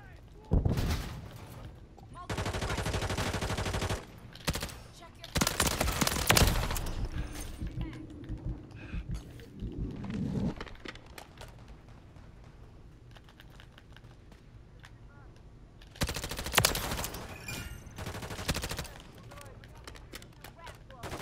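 Gunfire from Call of Duty: Modern Warfare III on the Season 1 Reloaded map Rio comes in several long, loud automatic bursts. A player talks over it, and keyboard clicks are heard between the bursts.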